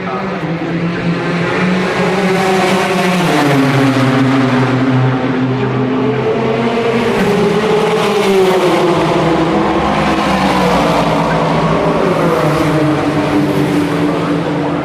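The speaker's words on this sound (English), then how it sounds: "traditional end to an episode of Speed from Le Mans is using the sound of the cars start finish straight" Race cars roaring along the start-finish straight at Le Mans, loud sustained engine noise with rising and falling pitch as cars accelerate and pass, heard continuously.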